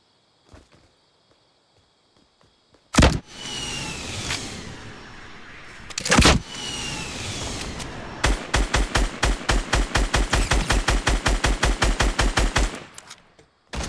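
Rapid repeated gunfire bursts in the video game Fortnite, loud and close, with two heavy blasts followed by a long rhythmic string of evenly spaced shots, fitting grenade launcher fire.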